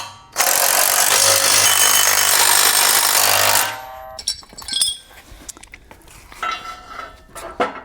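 A 3/4-inch socket on a power tool tightening a bolt on a MicroSport Overland tent trailer, one loud continuous rattling burst of about three seconds close by, followed by scattered clinks and metal handling.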